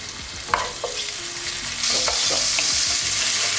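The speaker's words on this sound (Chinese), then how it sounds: "我们加一点点的白酒下去，收一下就可以了" White wine splashed into a hot pan of shrimp and squid for potato pasta, hitting with a sudden loud sizzle that settles into a steady hiss as it reduces, with a few metal taps of a utensil and no voices.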